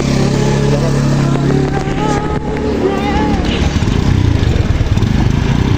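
A motorcycle engine runs steadily and loudly close by for the whole stretch, a constant low rumble and drone, with faint voices mixed in.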